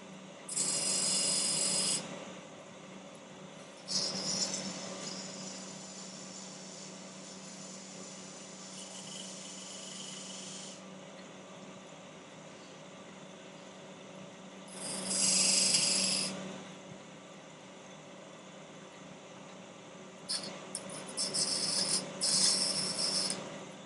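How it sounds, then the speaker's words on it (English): A 9/16 spindle gouge cutting spinning wood on a lathe gives harsh, hissing scraping bursts of a few seconds each, separated by quieter stretches of steady motor hum. "This is a spindle gouge"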